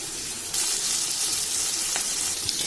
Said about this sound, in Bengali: মাছগুলো ততক্ষণ ভাজা হতে থাকুক